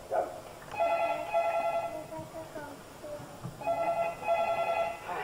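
A telephone rings in repeated electronic bursts, two groups separated by a pause, heard fairly faintly in a room.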